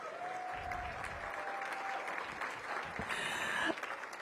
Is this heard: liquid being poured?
no